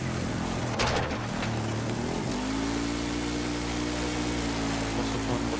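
Engine of a PAX military vehicle in the Battlefield 6 campaign, a steady mid-pitched drone that settles into a sustained hum after a brief shift, heard up close with no talking.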